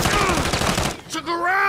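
Call of Duty Warzone gunfire crackles in a quick dense burst, loud and close, before a short lull and some game noise.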